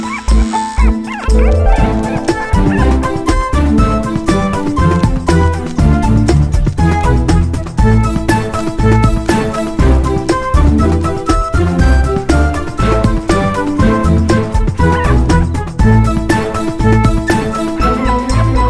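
A dog barks and yips repeatedly in a Telugu film scene, the sharp barks and a brief whimper sitting under loud, continuous background music.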